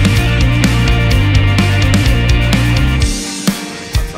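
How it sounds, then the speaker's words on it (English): Shakers tick steadily on 16th notes, spread wide in stereo, within a full, loud mix of sustained bass and tones that thins out near the end, with a few sharper hits at the close. "we put the shakers in on the 16th notes"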